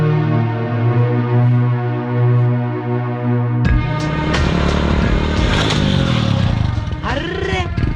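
Motorbike approaching at speed, a steady engine drone that breaks into a louder, rougher surge and clatter as it arrives close, followed by a sweeping engine pitch near the end.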